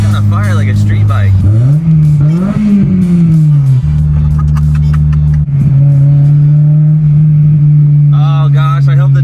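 A Honda Civic Si with a newly installed exhaust revs loudly and up close, its engine note climbing and falling several times before settling into a steady, raspy idle.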